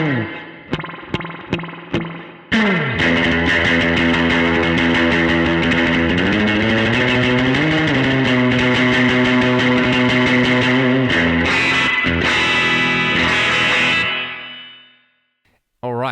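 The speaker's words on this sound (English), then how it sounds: "I'm going to play on the bridge pickup of my guitar." Electric guitar played on the bridge pickup through spring reverb for a surf tone with a 15-inch cab IR: a few picked notes, then a loud sustained, wavering chord that rings out and fades, with a final short hit.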